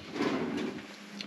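A cutlery drawer in a motorhome kitchen slides open with a short, soft rumbling scrape, heard close up and alone.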